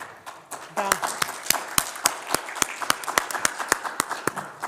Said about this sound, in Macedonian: навистина вашава изјава заслужува силен аплауз